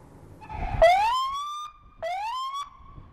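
A California Highway Patrol police car siren sounds loud and close with no other sound, sweeping upward in two separate wails, the second shorter than the first.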